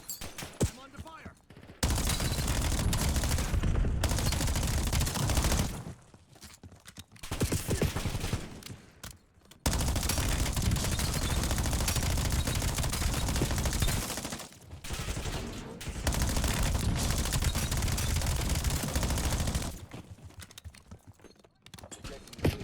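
Sustained bursts of automatic gunfire in the Black Ops 7 video game, loud and dense, broken by a few short pauses across the stretch, with voices in the mix at times.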